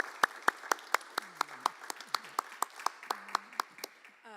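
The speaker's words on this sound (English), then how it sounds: "How about a nice round of applause?" A round of applause at a school board meeting, with a small group clapping steadily at moderate distance.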